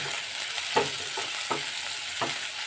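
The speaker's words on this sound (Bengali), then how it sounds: "পেঁয়াজগুলো আমি একটু ভেজে নিচ্ছি" Onions frying in a pan for palak paneer, a steady close sizzle with a few brief stirring scrapes at intervals.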